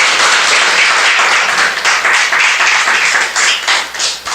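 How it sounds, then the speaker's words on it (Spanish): Congregation in a church service clapping loudly, a close, dense burst of applause with uneven rhythmic surges throughout. "Dele un aplauso a la palabra de Dios."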